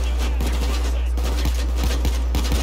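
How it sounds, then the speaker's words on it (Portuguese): Heavy gunfire in Payday 2: rapid, overlapping shots in dense bursts, loud and close over a constant low rumble, with brief speech mixed in. "Mano, é muito tiro, velho."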